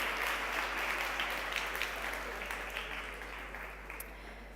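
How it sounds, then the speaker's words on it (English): A conference audience applauds at a startup event session, a broad wash of clapping that starts strong and slowly tapers off. "Give them a round of applause,"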